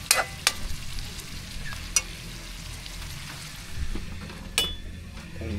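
Meat frying in a pan with its fat rendering out, a steady close sizzle broken by a few sharp clinks of utensils, no one speaking.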